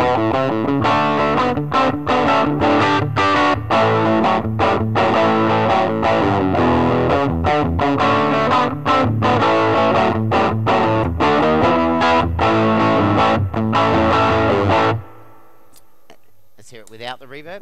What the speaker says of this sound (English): It's on a bit of distortion at the moment.